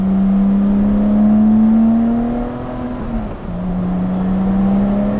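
A Lotus V6 engine drones loud and steady on a rainy road, its tone climbing slightly, then briefly dipping and settling back into a constant hum.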